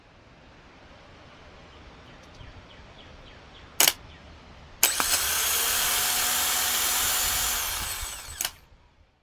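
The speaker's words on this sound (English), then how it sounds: "Next up was the starter, and before I put it back in, I decided to test it." A Hyundai starter motor tested on the bench gives a sharp click, then a loud, steady whirring spin for about four seconds before cutting off with a final click, up close, with no talking.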